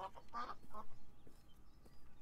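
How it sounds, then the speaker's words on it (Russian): A family of ducks in the Beyond Eyes game quacks in several short, loud bursts close by, tapering off into quieter ambience with no one speaking. "Целое утиное семейство, смотри-ка."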